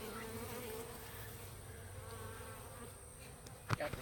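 Honeybees drone faintly in a low, continuous buzz while a beehive is moved at night, with a soft steady hum and a brief knock near the end.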